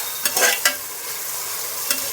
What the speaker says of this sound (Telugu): 3 మీడియం సైజు కట్ చేసిన ఆనియన్స్ వేస్తున్నాను.